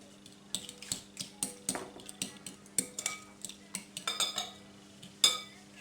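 A spoon scraping and clinking through chicken and vegetable quiche filling in a pan, quick irregular metallic taps and scrapes, close and fairly quiet, with no talking.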